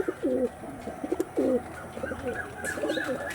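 Pigeons coo in low, throaty rolling phrases close by, several overlapping calls with brief chirps, at a pigeon seller's market.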